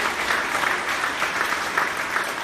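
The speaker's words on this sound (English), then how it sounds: "let's give a big round of applause" An audience claps through a brief, steady round of applause after a county commissioner debate Q&A, with no voices over the clapping.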